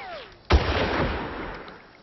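A single sharp gunshot goes off in the Far Cry video game, a sudden loud crack that fades into a short rumbling tail, with a faint whistling tone just before it.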